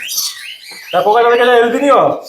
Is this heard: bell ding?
no